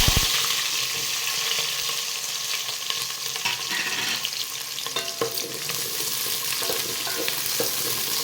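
Onions frying in hot oil with mustard seeds for a Kerala-style fish curry, a steady loud sizzle with stirring scrapes throughout and no talking.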